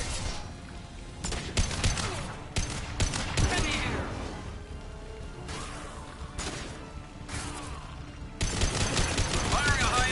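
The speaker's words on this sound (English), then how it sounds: "Firing a high-impact shot!" Repeated loud gunshots and automatic bursts in the sci-fi shooter Mass Effect 2, sharp impacts spaced across several seconds over game effects, with some voice talking.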